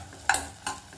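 Drumstick stems tossed in a hot pan for a soup, two quick scraping stirs with a light sizzle in between.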